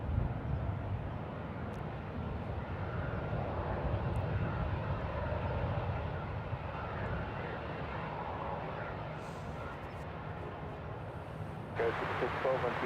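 A plane takes off at San Francisco International Airport, a loud, steady engine roar that holds for the whole stretch while voices talk over it.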